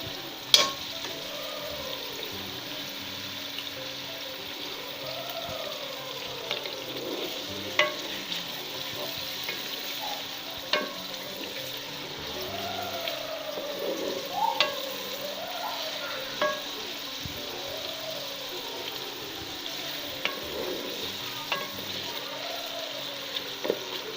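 Chopped onion sizzles in hot oil in a pan while being prepared for a spicy chicken qorma, a steady frying hiss broken by regular scraping stirs of a spoon throughout.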